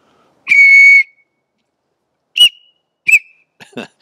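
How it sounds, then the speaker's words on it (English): A buffalo bone whistle gives a loud, shrill blast lasting about half a second, followed by several shorter, sharper toots and chirps after a pause. "the buffalo bone whistle is pretty stinking cool"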